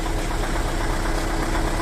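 Old Iveco Eurostar 520 truck's V8 engine idles with a steady, dense, rumbling drone and slight knocking texture, loud and close, with no voices.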